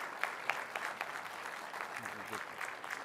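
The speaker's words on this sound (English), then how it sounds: "can we give Administrator Contreras-Sweet and Joyce Rosenberg a round of applause" An audience gives a round of applause at a Boca Raton National Small Business Week event, with steady clapping across the whole moment and sharper individual claps standing out from the crowd.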